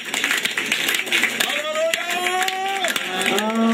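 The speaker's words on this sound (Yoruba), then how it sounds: "Ẹ pàtẹ́wọ́ fún Jésù." An audience at a 2018 outreach gathering in Imeko claps in praise, a dense stream of hand claps running throughout while a voice rises above them.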